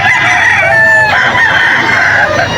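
A young rooster, a stag, crows at a busy poultry market in Bocaue, Bulacan. It is a loud, close crow with a drawn-out, wavering call lasting over two seconds against market background.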